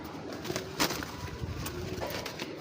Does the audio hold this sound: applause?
no